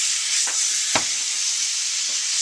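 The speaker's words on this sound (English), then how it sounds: "Then I'm going to throw this asparagus in. And you hear it sizzle" Steady, loud sizzling of asparagus frying in brown garlic in a pan, with a few soft clinks and scrapes of a utensil stirring through it.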